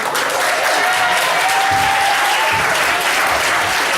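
Audience of seniors at a school event applauding and cheering for departing juniors, a dense, continuous wash of clapping filling the room at steady loudness.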